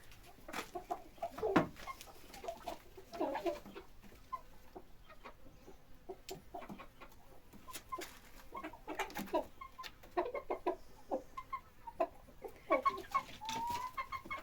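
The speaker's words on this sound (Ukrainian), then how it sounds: "Ото курочка. Це теж курочка." Young Lohmann Brown hens, about four months old, cluck and murmur steadily in a farm coop, with soft overlapping calls and occasional louder squawks throughout, nearby and moderately quiet.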